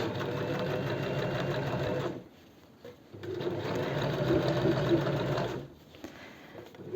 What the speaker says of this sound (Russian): На ширину лапки я стачиваю.